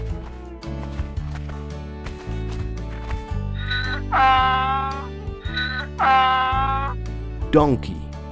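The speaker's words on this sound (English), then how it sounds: "Donkey." A cartoon donkey brays in two long, wavering calls followed by a shorter falling one, loud over steady background music in a barnyard-animal setting.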